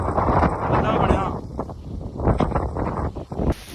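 Strong wind gusts across open farmland as a cold storm arrives, a loud roaring buffet hitting the microphone while someone talks over it.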